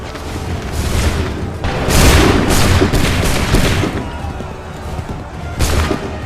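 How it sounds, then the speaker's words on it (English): Musket volleys in Assassin's Creed 3 ring out loud and close, a dense fusillade of overlapping booming shots that surges, eases, then erupts again near the end. "Fire now!"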